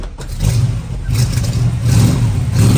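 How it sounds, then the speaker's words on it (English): A restored 1966 Chevy II Nova Super Sport with a 327 cubic-inch V8 revs close by, its deep steady rumble swelling and easing through a couple of throttle blips with no talk. "We'll give it a couple revs here."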